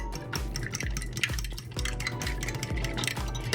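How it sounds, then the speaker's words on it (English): Nine eggs beaten in a bowl for a Filipino turkey giniling torta, a fast, steady rhythm of close utensil strokes clicking and sloshing against the bowl, with no talking. "Scramble those eggs."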